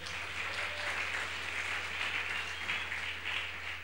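A church congregation applauds loudly and steadily, a dense wash of clapping sustained from start to finish with no pause.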